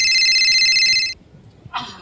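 A phone ringtone chirps loud and close, one electronic tone burst lasting about a second, then a brief pause before it starts again.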